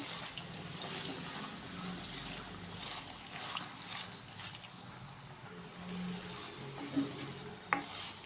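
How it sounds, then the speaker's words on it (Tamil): 300 g of ginger frying and being stirred in hot oil in a pan for ginger thokku, a steady sizzle with scraping stir strokes throughout and a couple of sharper knocks near the end. "முந்நூறு கிராம் இஞ்சியை நம்ம போட்டு வறுத்து நல்லா செவக்க வறுத்து எடுத்துக்கலாம்"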